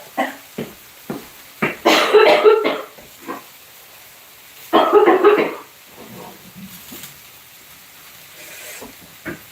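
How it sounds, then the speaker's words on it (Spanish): Two harsh, forceful bursts, like a person coughing hard up close, separated by a pause and surrounded by shorter throaty noises and breaths. "Tengo que abrir la garganta así fuerte para poder toser"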